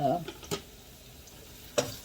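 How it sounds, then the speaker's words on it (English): Sofrito of garlic, onions and cilantro sizzles and stir-fries in a pan, with a few sharp scraping clinks of a utensil against the metal over a steady faint hiss. "I've got the sofrito stir frying on here"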